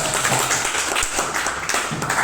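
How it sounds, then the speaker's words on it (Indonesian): A classroom gives applause for a student group that has just presented on acids and bases: a steady, dense wash of many hands clapping together, fairly loud and continuous for about two seconds with no clear talk. "beri tepuk tangan dulu untuk kelompok 3"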